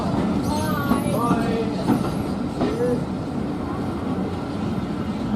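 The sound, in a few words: train departing at Bodiam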